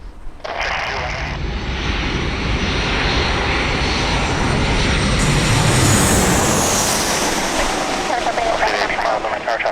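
A jet airliner lands at San Diego Airport, its engines producing a loud, sustained roar and broadband rush that swells toward the middle of the pass and stays strong throughout.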